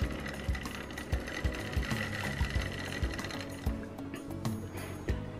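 A Hornby model locomotive motor with a recharged magnet and new brushes being run in, giving a steady mechanical whir with regular ticking pulses throughout.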